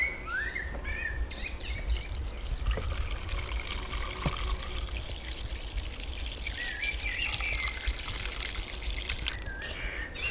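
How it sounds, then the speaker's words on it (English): Homemade elderflower champagne trickles steadily through a muslin-lined sieve, with birds chirping faintly in the background. "are going to sieve it because we don't want your champagne full of little debris"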